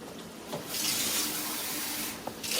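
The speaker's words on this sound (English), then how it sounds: "then you add some water to it, cold water" Cold water poured into a homogeneous cooking mixture, a steady close splashing stream from a tap that runs for about two seconds, then stops, with a short clink near the end.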